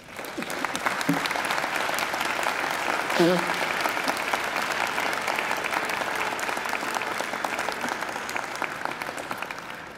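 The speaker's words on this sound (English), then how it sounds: "And now I invite you to give them a mighty round of applause." Families and friends at a university graduation ceremony receive sustained applause from graduates filling a large hall, a steady dense clapping that stays loud for the whole stretch, with a brief voice and a few cheers rising through it.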